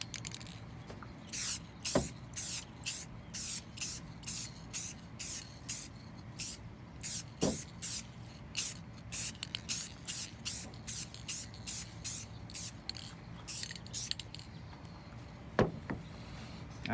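Short, sharp aerosol spray bursts hiss in a quick, regular series while a second coat goes onto a car headlight, close and fairly loud, with a few faint clicks between passes and no talk.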